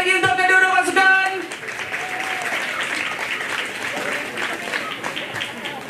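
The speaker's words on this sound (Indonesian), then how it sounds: "tepukan sekali lagi untuk kedua-dua pasukan" A crowd applauds both teams at a football match between a veterans side and Malaysian celebrities. A voice is heard at the start, then steady, even clapping follows at moderate distance.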